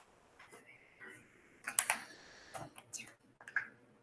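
Mouse clicks and keyboard taps at a computer while setting up a YouTube channel, a few crisp close clicks in quick succession amid soft background noise, with faint speech nearby.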